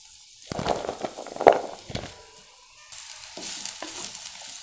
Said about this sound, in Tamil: பாவக்காய் போட்டு வணக்கலாம்